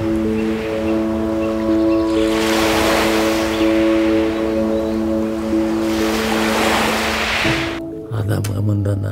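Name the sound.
lake waves lapping on the shore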